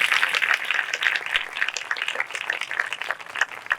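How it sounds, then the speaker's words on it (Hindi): A congregation at a live prayer service gives a hearty round of applause for a brother, many hands clapping in a dense, crackling burst that holds steady for several seconds without speech. "आइए भाई साहब के लिए जरा जोरदार ताली हो जाए।"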